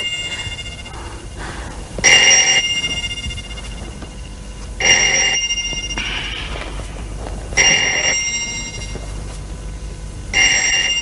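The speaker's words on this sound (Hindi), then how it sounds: "प्लीज जाके फोन सुनो" An old telephone bell rings in four loud, evenly spaced bursts of metallic trilling in a quiet room, with a soft murmur and stirring between the rings.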